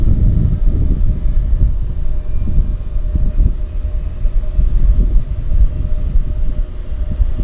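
A floatplane at Vancouver Harbour rumbles with a steady low engine drone that holds at a constant level throughout, heard from some distance.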